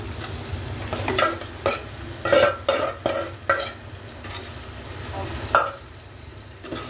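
Mutton is tipped into frying onions and stirred, producing repeated scraping strokes of a spoon against the pan over a steady sizzle, close and fairly loud.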